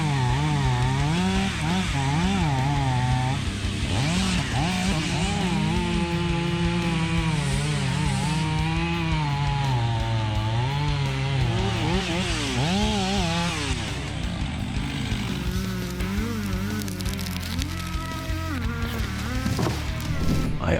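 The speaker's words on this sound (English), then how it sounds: "Witnessing a chainsaw in action is an exciting sight" A chainsaw cutting wood during hand-built wooden house construction, its engine droning loud and close for the whole stretch, pitch rising and falling as the load changes, easing briefly near the end before revving again.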